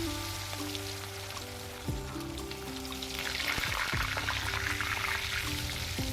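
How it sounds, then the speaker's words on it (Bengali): Vetki fish frying in mustard oil in a pan, a steady close sizzle and crackle that swells louder midway, over a low hum with a few clanks, without talk. "এবার তেলের মধ্যে হালকা করে ভেজে নেব"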